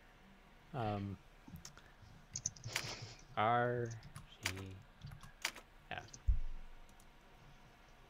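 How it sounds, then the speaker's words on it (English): Typewriter keys attached to a computer in the Jumpstart 5th/3rd grade educational game click in sparse single and double strikes, crisp and close, alternating with a person talking over them. "Wait, it's a typewriter attached to a computer."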